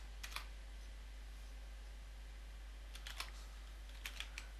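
Faint clicks of typing on a computer keyboard, a few scattered keystroke clusters over a quiet, humming room.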